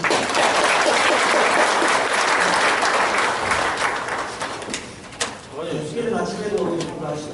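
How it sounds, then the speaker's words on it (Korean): Loud applause from an audience after a professor's lecture at the Gumi Chamber of Commerce, dense clapping for about five seconds that then thins and fades as a voice begins speaking. "교수님께 다시 한번 큰 박수 드리겠습니다."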